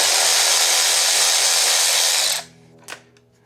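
Power tool, likely an impact gun, working the tie rods on a Chevy C10 truck's front suspension: a loud steady whine for over two seconds that cuts off, then a brief quieter burst.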